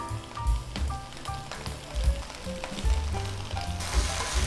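Vegetables stir-fried over high heat, seasoned with salt and light soy sauce, give off a dense close sizzle with scraping and clanking of a spatula against the pan recurring every second or so, with no talking.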